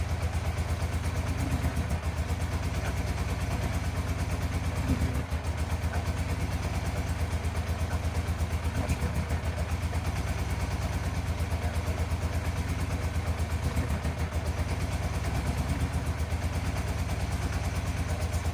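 A 1987 Yamaha FZR 1000 Genesis motorcycle engine idles while warming up, giving a steady, close, low throbbing putter with a fast even pulse that holds without revving for the whole stretch, no talking.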